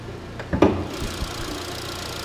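2014 Chevy Sonic with a 1.8 liter non-turbo Ecotec engine idling, a low steady rumble under a few brief knocks or clunks near the start, close and moderately loud with no talking.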